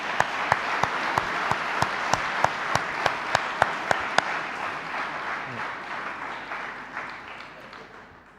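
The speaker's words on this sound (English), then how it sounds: "big round of applause, will we?" At a keynote session, an audience applauds steadily, with a dense crowd of claps that stays loud, then slowly fades over several seconds. A few sharp single claps stand out near the start.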